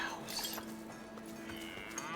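Cattle low in the video game Dungeons of Hinterberg, a couple of moderately faint moos drawn out over a soft ambient backdrop with a faint tonal hum.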